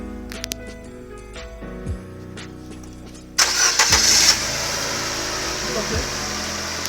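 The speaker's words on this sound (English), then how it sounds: "To crank this engine" Car engine cranking and then catching, starting up loud and close as the starter's whir gives way to a steady idle, with a person speaking briefly in the background.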